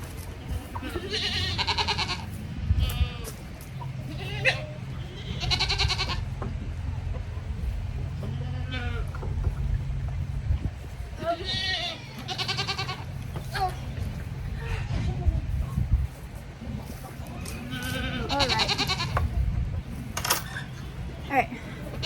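Several goats bleat repeatedly in bursts, some close and loud, others overlapping, with occasional clanks and rustling between the calls.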